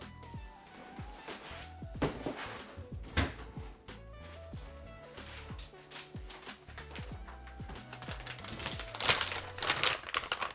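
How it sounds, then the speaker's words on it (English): Small keyboard parts and screws are dropped into a bag during a mechanical keyboard build, giving scattered crinkling, rustling and clacking handling noises close up with brief pauses. "I'm just going to put these in a bag"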